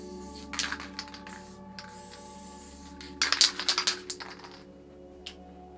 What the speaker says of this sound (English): both caps sprayed pretty much the same